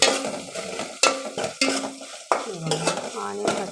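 Chopped onions and green chilies fry in a pan with a constant sizzle, broken by repeated scraping stirs and metallic clinks of a spoon against the pan.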